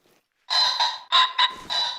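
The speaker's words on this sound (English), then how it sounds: "that is the warning call of another rooster over there" A pheasant rooster gives a loud, close warning call in the hunting game theHunter Call of the Wild: a series of harsh, nasal squawking bursts in quick, uneven succession.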